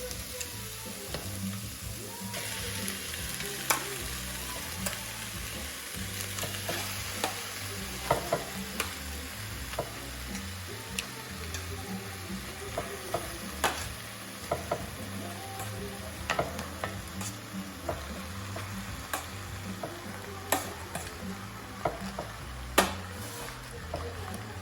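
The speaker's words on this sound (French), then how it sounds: "une fois qu'on a bien sué comme ça, on va rajouter tous nos morceaux de viande dedans" Pieces of guinea fowl meat for a salmis sizzle steadily in a pan after sweated vegetables, with frequent scraping stirs and utensil clicks over a constant frying hiss, close and moderately loud, no talking.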